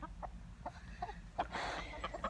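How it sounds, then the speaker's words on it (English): Chickens cluck softly around a farm, scattered short clucks and murmurs at low volume, a little denser toward the end. "Hello, chickens."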